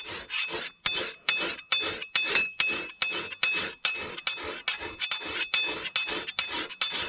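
A blade is sharpened outdoors with steady, rhythmic rasping strokes, about two per second, loud and close, continuing without pause and with no talking.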